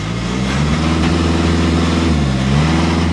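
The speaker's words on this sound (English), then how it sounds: "It sounds like a diesel." The diesel engine of a 2015 Volkswagen Golf TDI revs steadily and close by, a low, even drone that rises slightly in pitch and then settles, with no talking.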